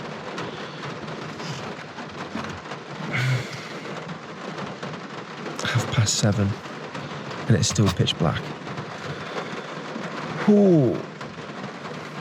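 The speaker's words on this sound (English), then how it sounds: "It has been raining like this probably for the last 2 hours." Heavy winter rain drums steadily on a car during a cold night of stealth camping, with a few louder gusts and booming bursts like thunder, while a voice speaks briefly over it.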